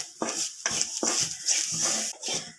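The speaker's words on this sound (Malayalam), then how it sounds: "നമ്മളൊരു ചീനിച്ചട്ടി വെച്ചിട്ട് അതിനകത്തേക്ക് നമ്മൾ വറുത്തിടാനുള്ള തേങ്ങ ഇട്ടിട്ടുണ്ടായിരുന്നേ" Grated coconut being dry-roasted in an iron pan over low heat, a spatula scraping and stirring in about six rhythmic strokes with a light sizzle underneath, close and fairly loud, no voices.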